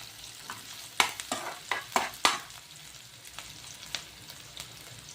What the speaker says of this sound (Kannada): ಆನಿಯನ್ನು ಚೆನ್ನಾಗಿ ಫ್ರೈ ಮಾಡ್ಕೊಳ್ತಾ ಇದ್ದೀನಿ